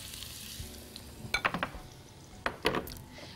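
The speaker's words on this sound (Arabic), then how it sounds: "وهحط البصل، وهنزل معاه الملح والفلفل" Onions frying in a pan with salt and pepper, sizzling softly with two bursts of louder crackling as they are stirred, a utensil clinking against the pan in between.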